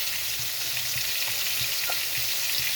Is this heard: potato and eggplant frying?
yes